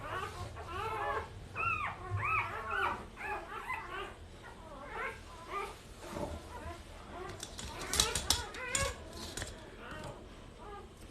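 Newborn Goldendoodle puppies whimper and yip in a busy stream of high squeals and cries, close and fairly loud, with people talking softly underneath.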